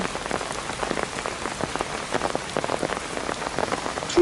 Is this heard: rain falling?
yes